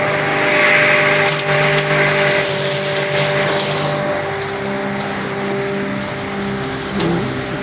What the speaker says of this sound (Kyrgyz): Эми азыр чөптү туурап көрсөтөлү.